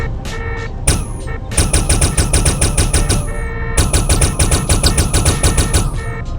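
Rapid automatic turret fire in the Minecraft Valkyrien Space War mod, loud close bursts of evenly spaced shots with a short pause between two long volleys, no voices over it.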